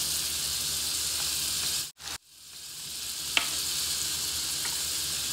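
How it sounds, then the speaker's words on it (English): A half stick of butter melts on medium-high heat in a hot pan, giving off a steady, bright sizzle that briefly cuts out, then resumes with a faint tap; no voices. "I have this on a medium high heat, and I just threw in a half a stick of butter"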